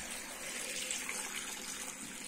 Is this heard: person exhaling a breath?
no